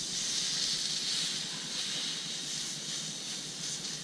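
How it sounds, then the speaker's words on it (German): Beef fillet searing on a hot grill plate sends up a steady, dense sizzling hiss, fairly close and continuous, with no voices over it. "Ich werde es jetzt von beiden Seiten kurz angrillen."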